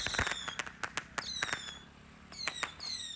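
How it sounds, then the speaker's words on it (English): Residents set off firecrackers to celebrate a road reopening after storm washout, a rapid irregular string of sharp cracks and pops with whistling, fizzing trails, some near and some farther off. "Excited residents lit firecrackers to welcome the reopening."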